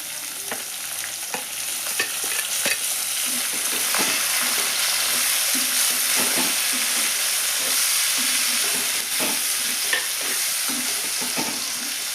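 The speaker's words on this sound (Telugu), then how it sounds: "టమాటా ముక్కలు ఒక ఆయిల్లో కొద్దిగా ఫ్రై అయితే చాలు" Tomato pieces frying in oil in a pan for a cauliflower egg curry, a steady close sizzle broken by frequent scraping and stirring clicks, with no talking.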